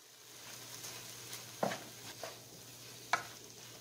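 Bell peppers, scallions and parsley tossed into a hot pan for a keto meat pie filling, with a soft steady sizzle under a few sharp clacks and scrapes of stirring, fairly quiet and close.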